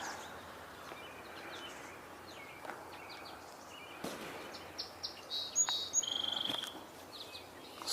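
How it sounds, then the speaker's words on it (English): Song sparrow singing outdoors, a few faint, distant bursts of chirpy song over a quiet, hissy background, growing clearer toward the end. "Song sparrow."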